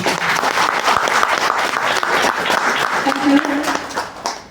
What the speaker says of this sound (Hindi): एक बार आप सभी प्यारे लोगों के लिए जोरदार तालियां जरूर